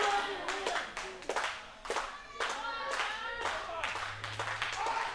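Wrestling fans clapping and cheering at a televised pro wrestling show, with rhythmic claps and crowd shouts beneath a commentator's voice.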